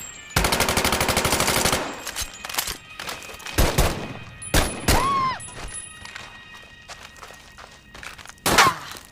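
Gunfire in the Medal of Honor video game, with a 1911 A1 semi-automatic pistol as the sidearm: a rapid burst followed by several loud, separate shots and thuds, with a metallic ring near the end.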